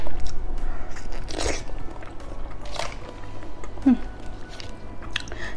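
Pear-flavored ice cream is bitten into with a few crisp, close crunches followed by soft chewing, recorded up close in quiet surroundings.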